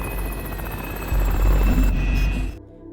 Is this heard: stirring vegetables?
no